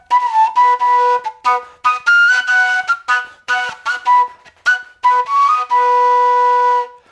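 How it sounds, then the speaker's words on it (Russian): Shrill, reedy whistle tones blown on a hollow grass-stem whistle in short and long bursts, pitch wavering between notes, loud and close with brief gaps between blasts. "Нужно губу или язык засунуть внутрь трубочки и создать, собственно говоря, свисточек."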